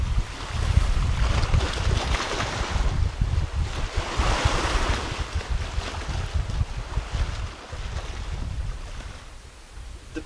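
Sea waves wash steadily in the bay of Tudorovica near Vela Luka, at the west end of Korčula island, a continuous broad surf rush with wind buffeting the microphone throughout and no voices.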